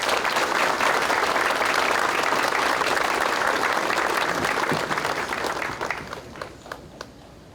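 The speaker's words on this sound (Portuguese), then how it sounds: "As nossas palmas ao Senhor" Applause from the audience at a civic ceremony marking Botucatu's 170th anniversary, a dense sustained clatter of many hands that holds steady, then thins out and fades to a few scattered claps at the end.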